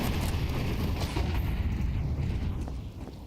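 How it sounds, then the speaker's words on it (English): Grenade explosions in Counter-Strike during the IEM Katowice 2024 esports event: dense, heavy booms and rumbling blasts pile up close together, loud throughout and tapering off slightly at the end. "So many nades."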